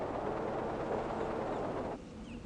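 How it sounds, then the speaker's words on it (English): A tram in the puzzle game Rhem 4 rumbles along steadily with a dense mechanical rolling noise, then cuts off abruptly near the end, leaving a quieter hum. "Press the down button to bring the tram closer."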